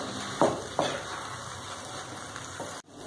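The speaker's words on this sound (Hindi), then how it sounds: "ये गाढ़ा हो गया है, मैंने फुल आंच पर ये कंटिन्यू चलाते हुए पकाया है" Thick semolina batter cooking in a pan over a full flame while being stirred constantly, a low bubbling sizzle broken by a couple of soft scraping strokes near the start, then a sudden cut.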